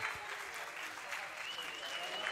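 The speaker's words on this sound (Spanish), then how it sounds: "Un fuerte aplauso para ellos." Loud, continuous crowd applause and cheering at a FIRST LEGO League robot game competition, a dense wash of clapping from a large audience filling the whole moment.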